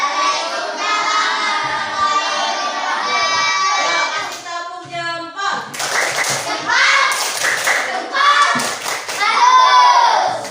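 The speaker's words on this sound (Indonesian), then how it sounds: "Ayo, kasih tepuk jempol." A classroom group of children claps for a presenter, with rhythmic hand claps in bursts mixed with children's shouting and chatter throughout.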